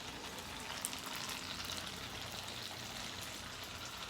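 Tofu for tofu sisig frying in a pan, a steady, even sizzle that stays constant and fairly close for the whole stretch, with no talking over it.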